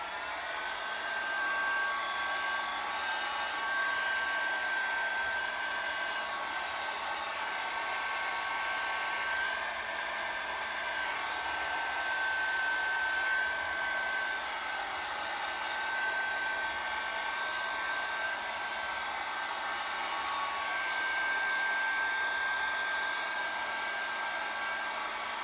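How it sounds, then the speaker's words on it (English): A hair dryer runs steadily and close for the whole stretch, a constant whooshing blast with a faint high whine, drying alcohol ink on paper with no talking. "I'm going to dry this quickly too."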